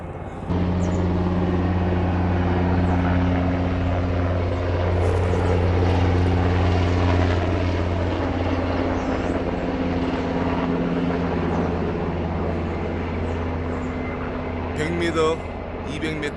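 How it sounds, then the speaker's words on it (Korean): A military helicopter drones loudly and continuously overhead on a mountain hiking trail, its low rotor thrum steady throughout with faint outdoor noise beneath. "헬리콥터 소리가 엄청 요란합니다"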